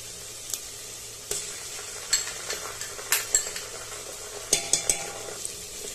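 Onions frying in a pan for a Bengali mutton curry, a continuous hiss of sizzling with repeated sharp scrapes and clinks of a spoon stirring against the pan.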